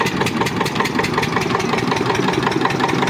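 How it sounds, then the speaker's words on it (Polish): Engine of an old Darłowianka threshing machine runs at a steady idle-like rumble, close and continuous with a fast, even pulsing throb and no talking. "silnik właśnie rozpala się. Maszyna zaczyna chodzić."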